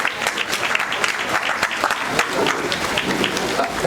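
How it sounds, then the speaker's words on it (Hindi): Loud, sustained clapping from an audience at a temple gathering, dense and steady throughout with no break. "जरा जोरदार ताली बजा दो भाई।"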